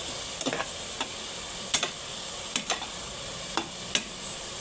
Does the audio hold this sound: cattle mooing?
no